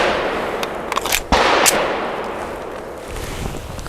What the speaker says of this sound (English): Really soft shooting.